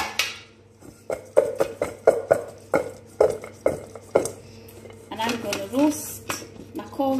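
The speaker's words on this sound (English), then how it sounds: "all I'm going to do is give the bowl a shake to make sure everything's covered evenly" A bowl of seasoned cauliflower shaken by hand makes a series of about a dozen rhythmic clattering rattles, close and fairly loud, before a person starts talking near the end.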